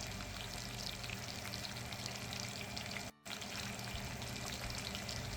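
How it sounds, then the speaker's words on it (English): Halibut cooking in a pan with melted butter, garlic, thyme and rosemary, giving a steady, fairly quiet frying sizzle with bubbling, broken by a brief dropout near the middle. "we're letting this fish simmer in all of that sauce"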